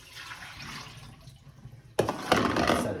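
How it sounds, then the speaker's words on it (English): Water is poured out of a plate of boiled eggs into a sink for a batch of deviled eggs, giving a sudden, close, splashing rush that starts partway through and runs on loudly to the end over a softer running-water background. "You can pour the water out because it's no longer needed."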